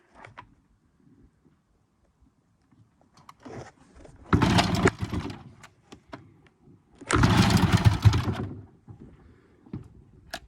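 An old Evinrude 20hp outboard motor is pull-started, with two loud rasping bursts of cord pulling and cranking, each about a second long, separated by quiet pauses and small handling knocks.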